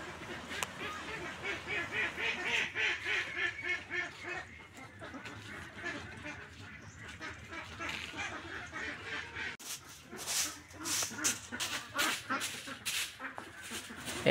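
Ducks quack and honk repeatedly around their pen while it is cleaned, in uneven bursts at moderate distance, with a person talking now and then.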